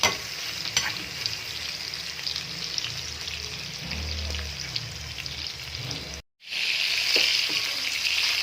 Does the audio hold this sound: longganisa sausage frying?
yes